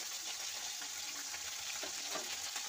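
Tilapia fish fry in hot oil in a home kitchen, a steady close hiss of sizzling with occasional faint pops and crackles, unbroken throughout.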